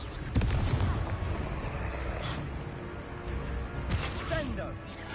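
Confringo spell explosions in the Hogwarts Legacy video game: two sharp blasts, one early and one later, over a rumbling battle background with a voice talking throughout.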